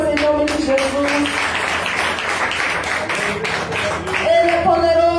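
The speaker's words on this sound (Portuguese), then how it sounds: "Louve e exalte o Senhor com palmas em nome de Jesus." A church congregation claps hands during a worship service, with rhythmic clapping mixed into singing and a preacher's voice carrying over the crowd.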